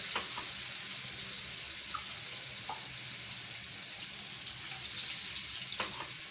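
Water poured into a mutton Shinwari karahi before it is covered to simmer, a steady soft splashing stream running continuously at moderate level with a few faint clinks.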